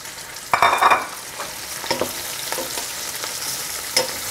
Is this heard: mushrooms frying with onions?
yes